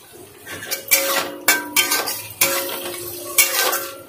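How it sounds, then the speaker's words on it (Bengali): A spice paste of tomato, cumin, chilli, ginger and potato being sautéed for a Bengali fish dish, with a spatula scraping and knocking against the pan in repeated strokes over a soft sizzle, close up with no voices. "আর এখন আমি মশলাটা কষাচ্ছি।"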